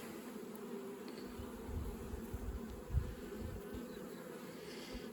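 Honey bees foraging at the hive make a steady low buzzing drone close by, many wings humming together with one brief louder swell as a bee passes near.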